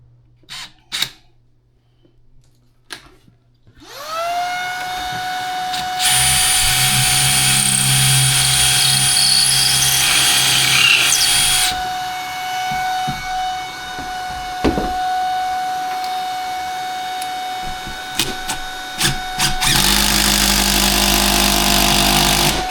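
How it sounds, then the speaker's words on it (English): A power drill whirs loudly and steadily for most of the stretch, drilling holes for a monitor wall mount, pausing briefly then revving again, after a few quiet clicks at the start. "now you drill our other holes"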